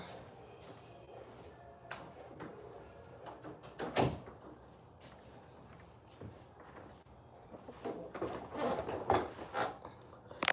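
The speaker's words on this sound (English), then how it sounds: "close the door" A door is pushed shut indoors, with several soft knocks and rattles and a louder thud, followed by shuffling and handling noises close by.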